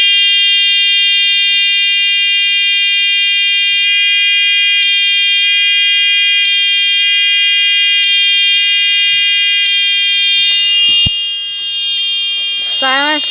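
A homemade fire alarm system's buzzer, set off by a pull station, sounds a loud, steady electronic tone for about eleven seconds, then cuts out into a brief warbling wind-down.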